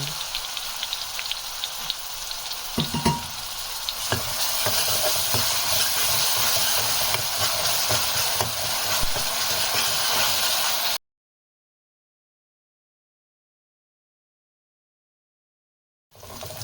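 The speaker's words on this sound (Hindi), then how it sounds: "अब ये प्याज जो है स्लो मैं ऑयल में इसको अच्छे से फ्राई करूँगी।" Two medium chopped onions fry slowly in oil over a medium flame, giving a continuous broad sizzling hiss with faint crackles for about eleven seconds, then silence before the sizzle briefly returns.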